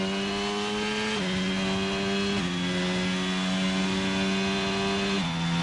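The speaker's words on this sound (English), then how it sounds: "They've got a very good engine sound." Racing game engine of an AlphaTauri Formula 1 car at the Canada round, a loud steady high-pitched whine that holds each gear, then drops as it shifts up three times, alone without talk.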